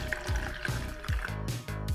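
Plain water pours into the lower container of a small red metal-tipped steam cleaner, with gurgling, trickling fill sounds and a few dull knocks, close and steady for a couple of seconds.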